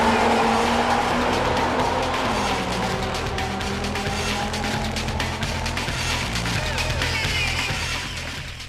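A 1998 Honda Civic Type R races hard, its engine screaming through rising revs and quick gear changes, loud and sustained with faint tyre noise and no audible talk.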